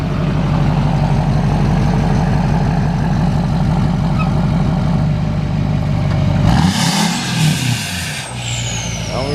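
A 2007 Duramax LMM diesel dually pickup with 219,000 miles and a new 4-inch exhaust idles steadily with a low, rhythmic diesel rumble, then a brief louder burst and shift in the engine noise near the end.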